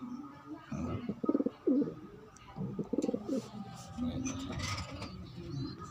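Pigeons and their chicks cooing, soft bursts of low throaty coos close by, with faint creaks and background noise between them.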